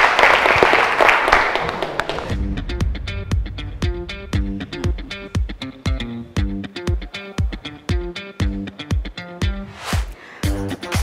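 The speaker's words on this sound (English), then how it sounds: "Now clap for yourself." Students at Ho Technical University clap for themselves on the Bigchef Tertiary cooking competition show, a close, brief burst of group clapping lasting about two seconds before rhythmic music takes over.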